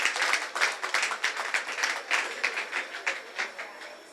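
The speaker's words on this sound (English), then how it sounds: "let's give a solid applause for the first winners of this evening" An audience claps for the winners of a game at an evening event, producing a steady patter of hand claps with a lively rhythm at moderate distance.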